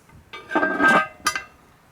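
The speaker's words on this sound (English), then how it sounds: "I've got my trusty Dutch oven, with lid lifter, vital for not burning yourself." A metal Dutch oven, lid lifter and spacer clink together in a couple of quick, bright metallic knocks that ring briefly, close and alone.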